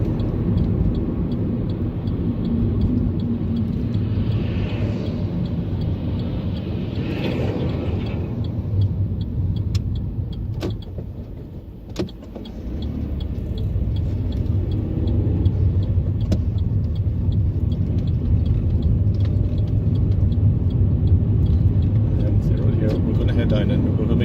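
A car drives along a road with steady engine and road rumble, a brief dip in level around the middle as the driver shifts up into fourth gear before the drone resumes.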